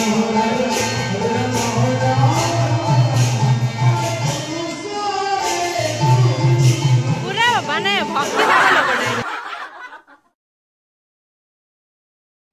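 A large crowd chatters in a dense, steady babble outside a college auditorium on foundation day. Many overlapping voices fill the air until the sound cuts off abruptly into silence near the end.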